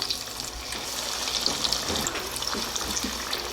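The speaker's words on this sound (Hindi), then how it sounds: "अब हम एक एक करके डोनट डालते जाएंगे" Potato doughnuts fry in hot oil over a medium flame, a dense continuous bubbling hiss at close range with small crackles and no voices.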